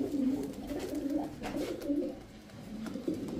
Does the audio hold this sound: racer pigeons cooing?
yes